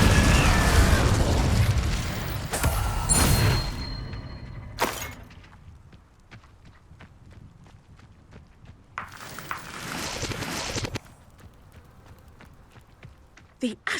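An Incendio fire spell cast in the video game Hogwarts Legacy: loud whooshing, crackling bursts of flame with booming impacts early on, then quieter crackles and a second fiery burst, with game voices present.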